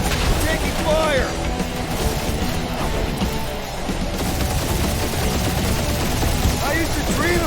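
Rapid gunfire bursts in a space battle from the video game Marvel's Guardians of the Galaxy, dense repeated shots over a rumbling background, with some whooshing effects, loud and continuous.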